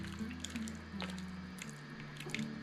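Spoon stirring a thick cheese soup made with flour and milk, soft wet squishing and dripping sounds close up over a faint background hum, with no one talking.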